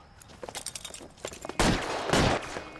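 Gunfire in the LA Noire video game: light scattered pops give way to two loud, dense bursts of shooting that fill the last second and a half, close and harsh.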